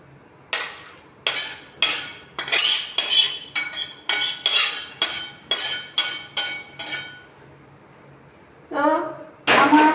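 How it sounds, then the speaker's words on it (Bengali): Cooked curry of taro and yardlong bean seeds being scraped and poured out of a wok with metal utensils, about a dozen sharp clanking scrapes in uneven rhythm, then a pause and a final louder clatter. "আমি এটা এখন ঢেলে নিচ্ছি"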